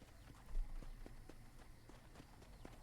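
Horse hooves clip-clop at a steady walking rhythm in the Red Dead Redemption video game, evenly spaced moderate thuds over a low background wash of game ambience.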